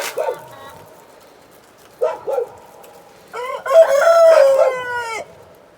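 A backyard rooster calls in short bursts and then lets out one full, drawn-out crow near the end, fairly close and clear, with a few brief softer sounds between the calls.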